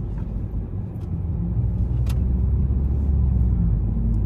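Steady stream of passing cars on a road beside a wild beach at Chiraly, a continuous low rumble of traffic that swells slightly and stays moderately close throughout.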